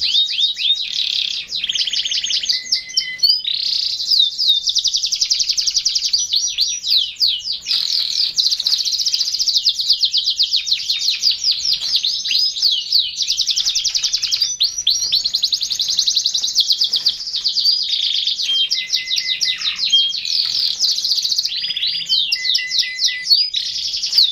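Canaries being paired for mating chirp and trill loudly and continuously in rapid, warbling song, close by and with no talk.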